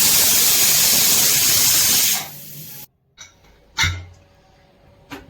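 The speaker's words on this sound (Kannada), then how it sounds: "2 ವಿಷಲ್ ಬರೆಸ್ಬೇಕು." A pressure cooker holding white chicken biryani vents steam in a loud, steady hiss that cuts off abruptly, followed by a few short bursts and clatters in the quiet afterward.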